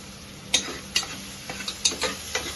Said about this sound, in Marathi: कांदा आता गोल्डन ब्राऊन होईपर्यंत तो परतायचा